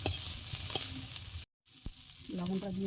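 Spices fry with ivy gourd greens in a pan, a close sizzle broken by a scraping stir and a short pause, then a faint voice speaks under the frying.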